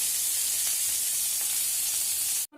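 Cauliflower pieces fry in hot oil with a dense, even sizzle throughout, cutting off abruptly just before the end.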